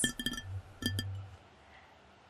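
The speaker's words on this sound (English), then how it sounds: "tapping on a glass," A few sharp clinking taps on a glass, quick clustered strikes near the start followed by two more, then fading ringing, close and fairly quiet with a low hum underneath.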